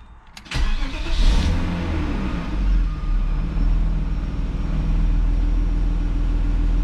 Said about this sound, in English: I'm just gonna start driving it while it's in the air and see if I get any grinds.